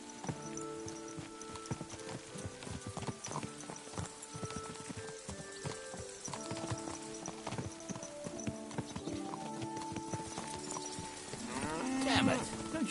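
Steady clip-clopping horse hooves trot along under a dense bed of game music and background noise in Kingdom Come: Deliverance 2, with a brief sliding animal call near the end.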